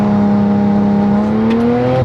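A Porsche 991 engine is held against the brake while throttle is applied, building boost: a loud, close, steadily rising rev tone for about two seconds that abruptly drops at the end.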